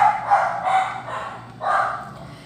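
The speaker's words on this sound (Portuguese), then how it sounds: "Começou os cachorros latindo, né, como sempre." Dogs bark close by in a short string of yelps and bow-wows, three or four bursts in quick succession with no talking.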